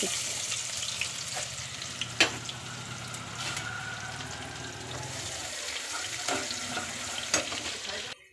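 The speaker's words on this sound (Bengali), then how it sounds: "পেঁয়াজটা আমার ভাজা হয়ে গেছে" Onion frying with chicken in a pan for chilli chicken, a steady hissing sizzle with occasional sharp spatula scrapes and clanks, moderately close.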